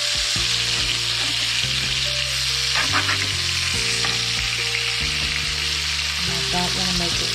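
Shark meat frying in a pan, a continuous loud sizzle and crackle of hot oil throughout with faint stirring scrapes underneath.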